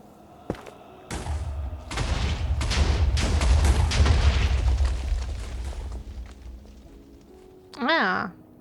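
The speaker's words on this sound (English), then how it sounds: "now I hear more explosions" Several booming explosions in Minecraft go off in a dense, rumbling burst that fills most of the stretch, followed by a short rising tonal sound near the end.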